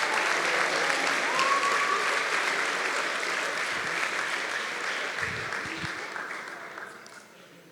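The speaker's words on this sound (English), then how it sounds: "So let's give a round of applause, 10 out of 12 varsity programs." Loud, sustained applause fills a room at a school athletic awards event, honoring varsity sports programs, then gradually tapers off toward the end.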